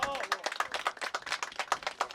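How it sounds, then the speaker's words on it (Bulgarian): A small group claps at an award ceremony for a Bulgarian trotter horse competition in Kaloyanovo, quick uneven handclaps close by, with a voice briefly audible underneath. "Аплодисменти още един път."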